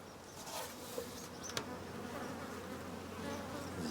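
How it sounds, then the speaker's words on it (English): Honey bees buzz around a frame hive in a summer garden, a dense continuous drone of many insects with a few close passes standing out, steady and fairly loud throughout. "Although there are plenty of bees there, it's not that full, is it?"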